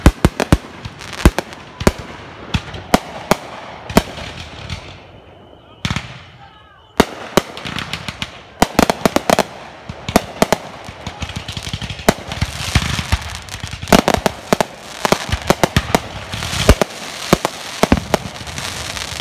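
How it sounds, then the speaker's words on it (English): Neighbors set off a big Independence Day fireworks show, heard from a backyard: dense volleys of sharp crackling bangs and booming bursts, many close and loud, coming in rapid irregular clusters with only one brief lull. "people are shooting off fireworks like crazy"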